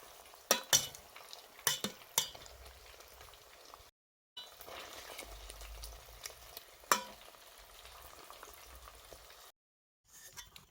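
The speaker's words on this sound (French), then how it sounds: "après l'ajout des œufs, il faudra juste mélanger le tout et laisser 2 à 3 minutes les œufs cuire" Eggs being stirred into an eggplant paste cooking in a pan, with a soft steady sizzle broken by several sharp scrapes and clinks of the spoon, and a couple of brief silent gaps.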